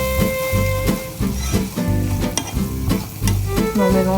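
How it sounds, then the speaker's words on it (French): Onions with garlic fry in a pan, crackling and sizzling loudly up close while being stirred, with the busy hiss broken by repeated scraping strokes. "je mets les oignons"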